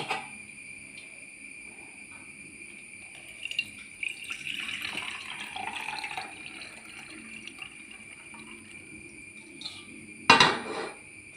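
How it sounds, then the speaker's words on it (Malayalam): Coconut water trickles and pours softly through a strainer in short spells, with a sharp clatter of utensils near the end and insects chirping steadily behind. "കുറച്ചും കൂടി ഉണ്ട് വെള്ളം അതും കൂടി ഞാൻ അരിച്ചെടുക്കട്ടെ"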